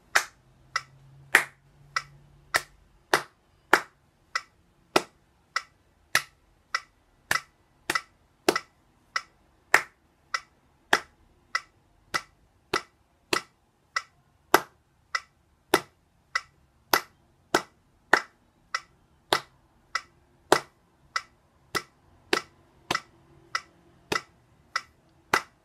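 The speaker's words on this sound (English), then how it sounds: "Now we're gonna clap it." Sharp hand claps in a steady, even rhythm, about forty crisp strikes spaced evenly and close up, each loud and clean with no talk over them, counting out a beat for a clarinet piece.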